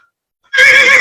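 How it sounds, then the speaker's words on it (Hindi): Horses on a battlefield whinny in one loud, sustained, high-pitched neigh that bursts in abruptly after near silence and carries on to the end. "घोड़े हिनहिना रहे हैं वहां पर"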